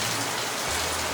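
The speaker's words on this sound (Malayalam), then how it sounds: "ഫുൾ മഴ." Heavy rain falls outdoors in a brief, dense, even wash of patter, steady and fairly close, with no voices.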